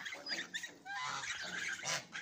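Ducks honk and quack loudly and close by while eating, their calls coming in rough, overlapping bursts.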